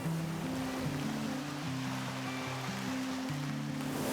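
Ocean waves in the middle of the Atlantic heard aboard the sailing ship bark Europa, a steady continuous wash of water and wind-like rush with a low tonal hum beneath, loud and unbroken, no voices.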